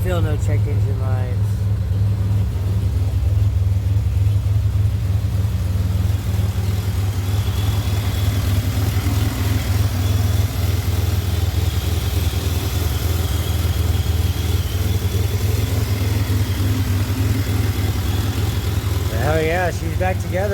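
A 2007 Pontiac Grand Prix engine freshly rebuilt with remanufactured heads and stainless valves runs at a steady idle, a continuous low rumble close by for the whole stretch, with no change in pace.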